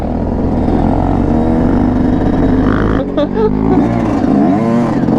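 A Honda Grom motorcycle rides a slippery dirt track with a loud, close engine drone that dips briefly and then revs up again, while a rider's voice is faintly heard over it.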